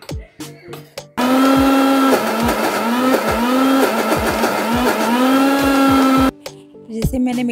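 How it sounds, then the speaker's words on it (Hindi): A kitchen mixer churns cream into butter for making ghee, starting with a click and running as a loud, steady whir with wavering pitch for about five seconds before cutting off abruptly, with a few clicks and knocks on either side. "मैंने मिक्सर चला दिया है"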